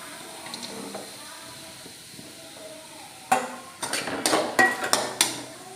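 Sliced medium-size onions tipped into a hot pan of garlic for Kerala-style pork pepper roast, giving a few close clattering knocks and scrapes of utensil against pan over a low background hiss.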